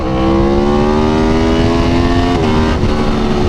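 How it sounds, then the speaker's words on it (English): A sport motorcycle in track mode revs hard and accelerates, its loud, close engine drone climbing steadily in pitch, dipping briefly, then rising again with no voices. "Yeah, the bike really comes alive."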